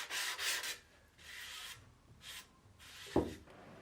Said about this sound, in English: Sand off excess wood putty.